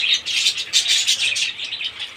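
Three pairs of caged birds in a colony cage about four by two feet and three feet high, fitted with three clay pots, keep up close, busy high chirping and twittering in rapid bursts, with no talking.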